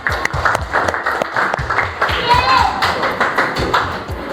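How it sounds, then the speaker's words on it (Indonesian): Classroom students clapping hands together on a teacher's cue, a sharp rhythmic run of claps in a room, with voices talking over them and a brief tonal ping midway. "Oke, tepuk tangan dulu semua."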